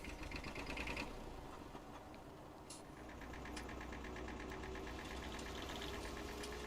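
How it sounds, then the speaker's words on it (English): A truck engine in Farming Simulator 19 turns over and settles into a steady, rhythmic chugging idle, heard faintly and continuously with no talking. "Start up the truck."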